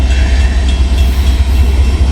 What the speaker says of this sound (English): Looks like a mixed manifest. Here he comes. He's going to slam these diamonds